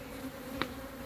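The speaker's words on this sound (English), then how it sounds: "A bee landed on me, made me jump." Bee near a honey hive during an inspection, a faint steady hum running through the clip with one brief louder burst as the insect passes close.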